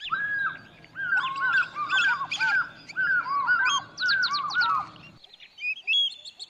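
Several birds in the Okavango Delta call and whistle in bright, repeated chirps, overlapping with one another against a low background hum that cuts out near the end.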